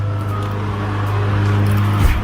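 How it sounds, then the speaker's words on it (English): A neighbor's lawn mower cutting grass, its engine a steady, fairly loud droning hum that runs unbroken for a couple of seconds, with no one talking over it. "My neighbor's cutting the grass."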